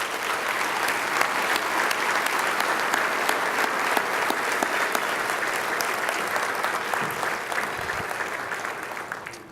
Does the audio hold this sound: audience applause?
yes